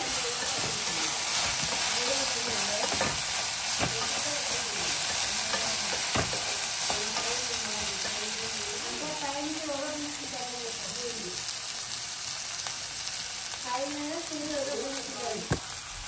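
Okra frying in a pan with oil, a steady close sizzle and hiss throughout, with occasional scrapes and clinks of stirring and a voice speaking softly underneath.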